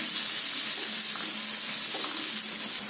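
Chopped onion frying in a pan for a potato, onion and egg frittata, a steady close hiss and sizzle with no break and no voices.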